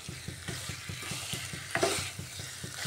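Potatoes with salt and spices stirred in a pan, a quick regular rhythm of spatula scrapes over a soft sizzle, one brighter clink near the middle, close and without speech.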